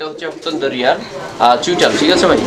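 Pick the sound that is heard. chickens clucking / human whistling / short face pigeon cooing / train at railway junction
short face pigeon cooing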